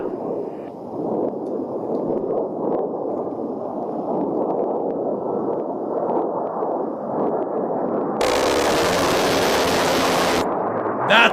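Recording of military aircraft cannon fire, comparing an A-10 with an F-35's Vulcan cannon, played back as a long dense roaring burst that ends in a harsh hissing blast near the close, no voices over it.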